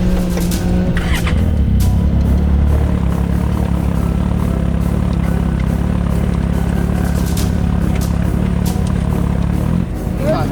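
An off-road race car in the King of the Hammers 2023 pits runs with a steady, loud, rumbling engine throughout, with faint clatter and people talking nearby.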